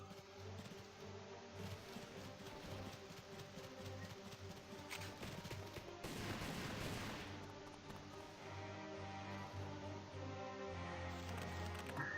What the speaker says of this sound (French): Une attaque d'artillerie.